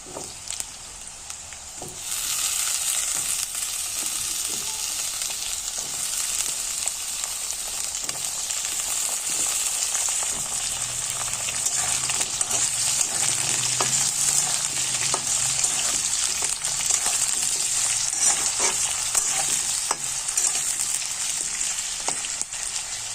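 Potatoes frying in a pan with onions, a steady sizzle that jumps louder after about two seconds and carries on evenly with light crackles and occasional stirring, no voices.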